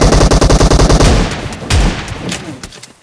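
Automatic gunfire in PUBG, a fast, evenly spaced burst of loud close shots for about a second, then scattered heavier reports and fading echoes.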